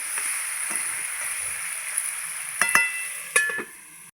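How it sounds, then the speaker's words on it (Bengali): Vegetables fry in fish oil in a pan, giving a steady hiss and sizzle throughout, with a few sharp clinks and scrapes of a utensil near the end. "এবার আবার ভালো করে সবজিটা ভেজে নেব"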